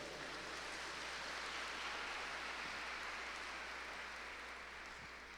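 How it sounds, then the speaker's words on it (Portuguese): A Catholic congregation applauds after a scripture reading, a continuous even wash of clapping that sounds almost like rain, with a low hum underneath and no talk. "Vamos aplaudir a palavra do Senhor."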